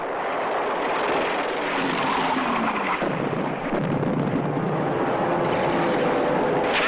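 Aircraft of the 1943 Allied air offensive on Sicily roar overhead in a dense, loud wartime wash of engine drone mixed with rumbling blasts.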